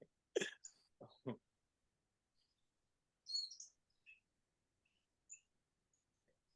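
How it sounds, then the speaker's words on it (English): Faint, sparse bird chirps and calls sound intermittently against near silence, short isolated notes spaced several seconds apart, with a brief vocal sound at the start. "The birds are going crazy"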